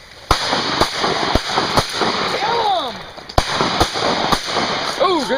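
Shotgun blasts during a duck hunt in a muddy marsh, several sharp cracks spread irregularly over a few seconds, with people talking and calling between shots.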